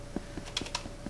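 Quick, light keystrokes tap out on a computer keyboard during a Minecraft game, a handful of close, crisp clicks in an uneven rhythm over a quiet background.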